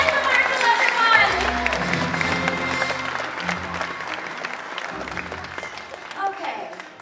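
Sustained audience applause at a Star Wars Weekends 2014 stage event for Vanessa Marshall, broad crowd clapping that gradually fades while an announcer talks over it.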